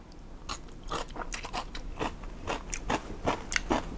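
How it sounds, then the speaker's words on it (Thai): Close, crisp bites and wet crunchy chewing of Russian-style salt-pickled fish with raw onion, a steady run of crunches repeating every fraction of a second with no talk. "เดี๋ยวลองกินหอมหัวใหญ่ที่ใส่มานะฮะ"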